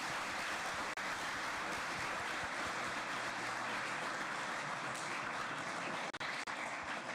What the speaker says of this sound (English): how about a round of applause for our moderators and for Mr. McCarthy?